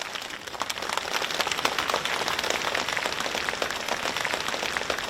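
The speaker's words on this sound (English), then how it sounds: "let us warmly welcome both of our guests with a round of applause" An audience at a Buddhist youth symposium gives a round of applause to welcome two guests, dense continuous clapping from many hands at an even, sustained level with no speech over it.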